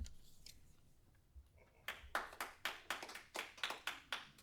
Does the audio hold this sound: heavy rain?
no